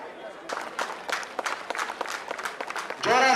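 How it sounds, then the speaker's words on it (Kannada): A crowd at a sports meet flag hoisting claps in a dense, steady patter of applause, moderately distant, before a sustained tonal sound cuts in at the end. "ಜೋರಾದ ಚಪ್ಪಾಳೆ."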